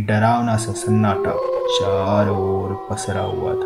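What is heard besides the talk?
dogs howling outside a bungalow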